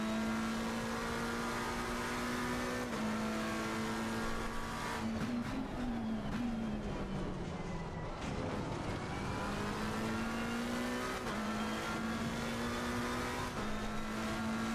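A McLaren race car engine in a racing video game drones steadily and loudly throughout, its pitch climbing and dipping through gear changes with no talking.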